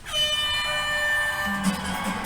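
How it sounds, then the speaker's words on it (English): One loud, sustained blast of an air horn sound effect fades slightly as it goes, followed by faint crowd noise in the background. "Air horn!"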